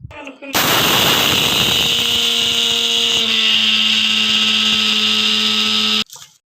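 A mixer grinder blitzes roasted mustard seeds into powder for an Indian gooseberry pickle, a loud, steady whirring roar with rattling seeds that starts abruptly and cuts off after about five and a half seconds.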